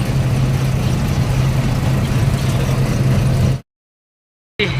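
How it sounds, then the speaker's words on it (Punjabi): Steady engine drone of a tractor in a farm field, with a strong low hum holding at a constant level before cutting off abruptly, then briefly returning. "ਟਰੈਕਟਰ ਵੀ ਉਹ ਆ ਰਿਹਾ"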